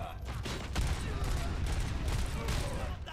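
Bursts of gunfire from the video game Robocop: Rogue City crackle in rapid volleys throughout, with a voice talking over the shooting.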